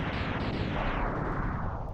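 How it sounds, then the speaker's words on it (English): A loud, sustained explosion from the Super Nintendo game Mega Man X: a dense, roaring, crackling blast that fills the full two seconds at steady volume and thins slightly toward the end, with no talking. "I love this explosion."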